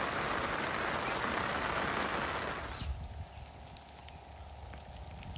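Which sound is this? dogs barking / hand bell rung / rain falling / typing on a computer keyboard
rain falling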